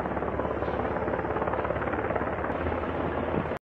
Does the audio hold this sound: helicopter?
yes